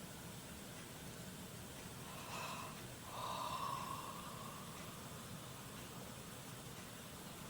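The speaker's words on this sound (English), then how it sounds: "You might be able to hear me yawning" A faint, drawn-out yawn with a breathy gasp and a rising vocal tone comes through once midway, set against a steady hiss of background noise.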